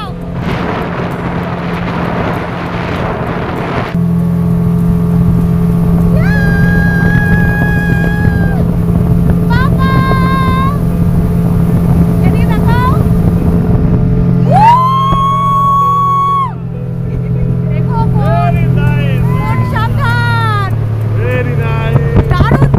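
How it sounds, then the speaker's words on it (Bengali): A speedboat cruises across the Maithon dam reservoir, its engine drone loud and continuous throughout, with voices and rising and falling tonal sounds layered over it. "8 থেকে 10 মিনিট মাইথনের অবাধ নীল জলরাশিতে আমরা ভেসে বেড়ালাম স্পিড বোটে।"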